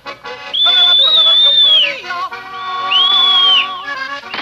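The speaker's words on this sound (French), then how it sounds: "nul ne sait siffler mieux qu'elle" A person whistles a clear, high melodic tune outdoors in the mountains, with two long sustained warbling phrases, loud and close, with no talking over it.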